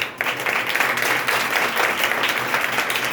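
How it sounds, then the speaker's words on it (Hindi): A church congregation claps at a Sunday service, a broad continuous burst of many hands that starts abruptly and holds steady and full for several seconds, with no voices over it. "तालियां बजाएं,"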